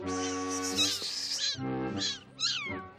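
A cat meows several times up close, starting with one long drawn-out cry followed by two shorter, higher mews, clear and alone in a quiet indoor drama scene.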